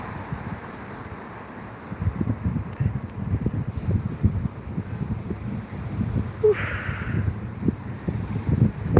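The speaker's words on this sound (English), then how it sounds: "How's the wind now?" Cold wind blows steadily outdoors in Dublin, a broad low rumble of gusts buffeting the microphone throughout, with faint background noise and no speech.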